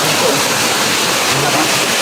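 Natural spring water runs and splashes over rocks in a steady, full rush close by, loud and constant, with no voices over it.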